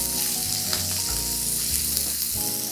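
Eggs frying in oil in a pan, spattering with a loud, dense, continuous sizzle and crackle, close up, with no talk.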